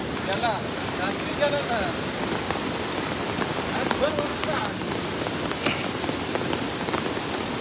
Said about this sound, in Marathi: रात्रीपासून पाऊस पडतोय आणि आता पाणी खूप कमी झालंय